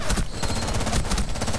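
Rapid automatic gunfire from a teammate in Rainbow Six Siege rattles without a break, loud and dense, a continuous stream of close shots.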